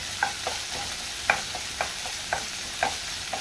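Finely chopped onion frying in a pan, a soft steady sizzle broken by a handful of evenly spaced spatula scrapes, close and without talk.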